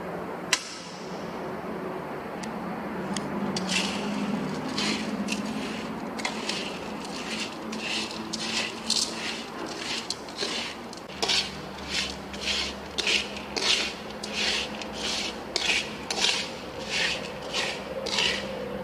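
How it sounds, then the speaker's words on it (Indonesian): Aggregate mixed with asphalt in a metal pan for a Marshall test sample: rough, gritty scraping strokes, first continuous, then a steady run of separate rhythmic rasps, close and clear. "Kita melakukan pencampuran agregat dengan kadar aspal."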